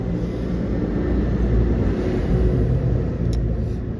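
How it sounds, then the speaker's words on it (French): A tractor passes close by, a loud, steady low engine rumble that swells slightly toward the middle and holds throughout, with no talk over it. "Un tracteur qui passe, ça fait beaucoup de bruit."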